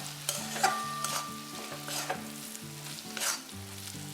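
Gram flour is stirred into a pan of drumstick zunka. The spoon scrapes through it in repeated strokes over a soft, steady sizzle, while a faint melodic tone plays quietly in the background.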